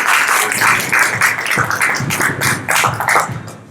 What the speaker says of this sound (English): Come, round of applause for all of us.